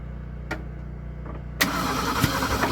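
An old Ford Ranchero engine cranks with a faint click early on, then catches with a loud pop and sputters into rough, uneven running.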